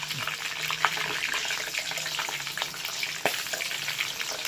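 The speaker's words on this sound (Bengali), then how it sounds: "এটা একদম পুরো ডিপ ফ্রাই করে তুলতে হবে" Slit green chillies and curry leaves deep-fry in hot oil for a simple snack, making a dense, continuous bubbling sizzle close by with a couple of sharp pops.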